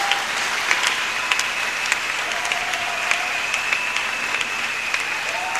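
A church congregation applauds steadily for several seconds, a dense, continuous wash of clapping that fills the room with no pauses.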